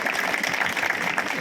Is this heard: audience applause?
yes